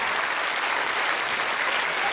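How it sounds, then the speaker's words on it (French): Steady, dense applause from a school audience for theatre option students, an unbroken wash of many clapping hands at moderate, even volume. "On peut les applaudir."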